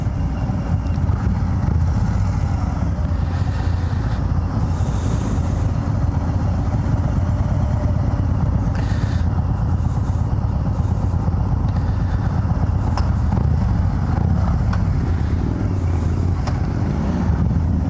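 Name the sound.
2019 Harley-Davidson Road King Special motorcycle riding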